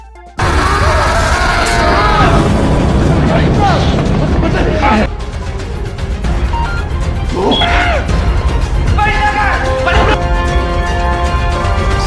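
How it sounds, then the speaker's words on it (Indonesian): A tank blowing apart in a film scene, a loud sudden crash and smashing burst followed by rushing, clattering debris and further impacts, with speech over parts of it. "Namun kali ini tangki itu meledak dengan dahsyat."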